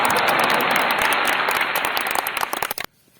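An audience claps at a village election campaign for a panchayat sarpanch candidate. The applause is loud and dense, then thins into a few scattered claps and stops abruptly near the end.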